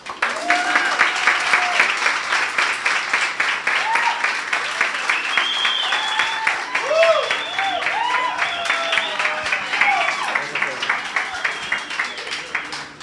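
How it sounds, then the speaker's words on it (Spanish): A church congregation applauds to welcome the Pérez family, steady dense clapping from a crowd with scattered cheers and voices mixed in, loud and sustained throughout. "También quiero que reciban con un aplauso a los Pérez."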